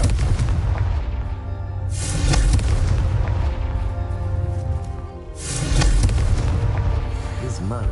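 A Confringo fire spell explodes in the Hogwarts Legacy video game, two heavy booming blasts rising over a steady rumbling background of game sound.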